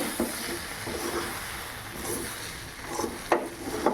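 A spoon stirs semolina with cashews and raisins in a pan, giving a continuous gritty scraping with occasional louder knocks.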